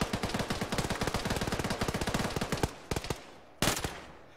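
Rapid automatic gunfire in a tactical military shooter, a dense sustained burst of loud cracks followed by a few scattered shots and one final short burst.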